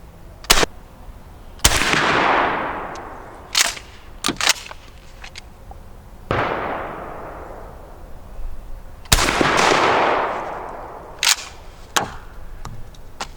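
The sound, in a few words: shotgun firing birdshot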